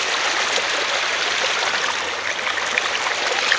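Creek water flowing in a steady, close rushing wash, a continuous bright babble with small gurgles and splashes and no pauses or voices.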